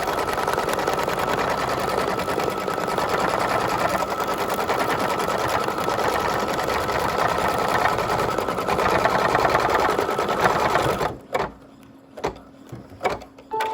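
An embroidery machine runs fast and steadily, stitching the outline of a motif on Mylar with a dense rapid mechanical chatter for most of the time, then stops, leaving a few short clicks and quiet handling noises.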